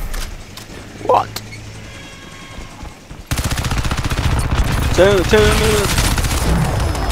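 Gunfire in the PC shooter Crysis 3 beta: after a quieter stretch, dense rapid automatic fire erupts and continues loudly, with a voice speaking briefly and electronic tones over the shooting.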